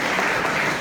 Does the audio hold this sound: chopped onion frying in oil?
no